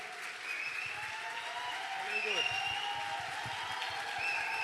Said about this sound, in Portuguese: Palmas, irmãos, palmas que ele merece.